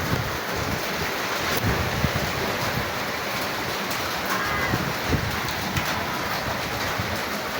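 Wind rushes and buffets the microphone in a constant, loud roar, with no voices heard.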